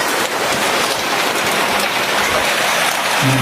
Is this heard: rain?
yes